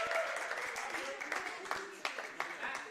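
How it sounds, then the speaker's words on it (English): Audience applause and cheering at a live talk event, a brief burst of scattered clapping that fades across a few seconds, with voices calling out over it. "Everyone cheer for Ryan."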